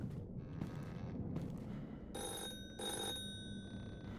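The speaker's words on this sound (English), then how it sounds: "Oh, my lantern's ringing." A lantern rings like a telephone bell in an indie horror video game, heard as two bursts of steady high tones around the midpoint over a continuous low rumble, with no talk.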